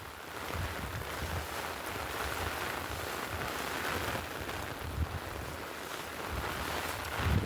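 Monsoon rain falls in Sukhpar village, Gujarat, a steady, fairly faint wash of broadband hiss with low rumbling gusts and no voices.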